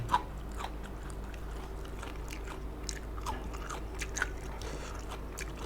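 Close, crunchy bites and chewing of shrimp soaked in fermented fish sauce with chilies, eaten alongside bitter melon, with soft irregular crunches and mouth sounds over a low steady background hum, no talking.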